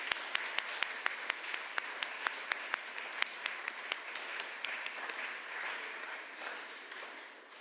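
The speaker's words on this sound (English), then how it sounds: "can we give them a round of applause on the way out?" An audience in a collegiate church at a premiere applauds departing performers, with crisp, distinct claps standing out from a dense round of clapping that gradually thins and softens toward the end.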